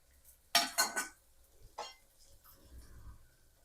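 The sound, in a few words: carrots and beans added to frying onions and peas in pan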